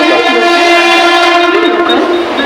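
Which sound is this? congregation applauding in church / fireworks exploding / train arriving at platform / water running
train arriving at platform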